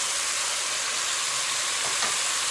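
A wooden spoon stirring carrots and turnips in a pot, a steady soft sizzle and scraping hiss with no clanking, continuous and fairly quiet throughout.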